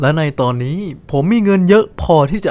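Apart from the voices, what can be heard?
No everyday noise stands out behind the speech.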